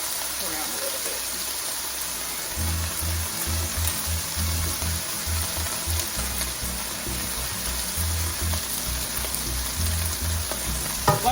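Chicken pieces browning in a hot pan for a quesadilla filling, a steady sizzle and frying crackle with occasional stirring, close and continuous throughout.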